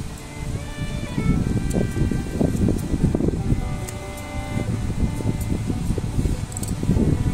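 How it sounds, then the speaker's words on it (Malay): Strong wind gusts across an outdoor chive garden, a rough, continuous low roar buffeting the microphone with rustling surges that rise and fall throughout. "Angin kuat"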